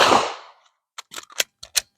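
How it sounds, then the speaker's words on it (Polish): A firearm fired during a magazine-change drill: one loud, sharp gunshot with a fast-decaying tail, followed after a pause by several quick metallic clicks and clacks of weapon handling. "wchodzę w cel, oddaję strzał"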